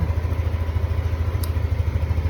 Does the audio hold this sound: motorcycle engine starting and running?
yes